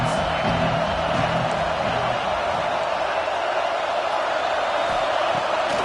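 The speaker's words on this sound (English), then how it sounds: "This crowd trying to make life miserable for this offense." Football stadium crowd roaring continuously against an offense on the field, a dense, steady wash of distant voices and cheering with no single voice standing out.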